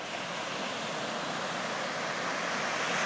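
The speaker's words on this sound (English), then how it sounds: "The beautiful cove in Haena on Alealea Road, standing on the beach." Gentle surf at a small, calm cove at Haena, Kauai, at low tide makes a soft, steady wash of noise that stays even throughout, with no voices.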